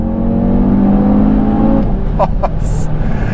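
A 2020 Audi TT RS with petrol particulate filter accelerates hard between corners, its engine roaring loud and steady from inside the car before shifting down slightly, with a tyre or gearbox squeal and someone talking over it.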